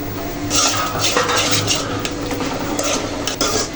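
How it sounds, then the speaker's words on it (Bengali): Spices with onion, garlic, green chilli, turmeric, coriander powder and salt stirred in a pan for shrimp and pumpkin curry, loud repeated scraping and clinking of a spoon against the pan over a faint sizzle. "মশলাগুলো ভালো করে নেড়ে দিতে হবে"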